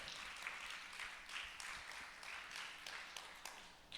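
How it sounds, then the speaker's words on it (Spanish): Congregation applauding during a Holy Week church sermon, a steady wash of fairly faint clapping that holds for several seconds with small swells and no clear speech over it. "¿Por qué no le da un fuerte aplauso a su Señor?"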